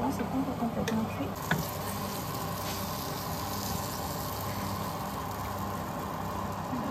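Vegetables and pasta cooking in a pan on raised heat give a steady, continuous sizzle and bubbling, close by, with a few faint clinks and no talk over it.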